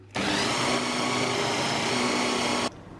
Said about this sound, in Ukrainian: Перебиваємо блендером.